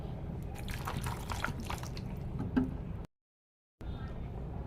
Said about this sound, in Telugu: మీల్ మేకర్లో వాటర్ వేసి నానబెట్టుకోవాలి.